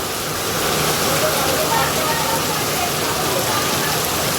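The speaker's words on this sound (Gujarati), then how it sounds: "તો ગાઈસ વરસાદ મજબૂત પડી ગયો" Heavy rain pours down on a village during the season's second downpour, a dense, steady, loud roar of falling water that holds level throughout.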